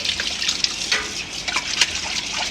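Water splashes and trickles steadily as a tub is rinsed clean in a home kitchen, with small irregular sloshes and drips close by and no talking.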